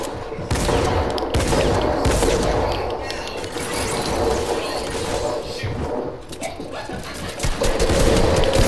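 Rapid bursts of gunfire fill a video game free-for-all match, loud and dense, with repeated shots and crashes running almost continuously throughout.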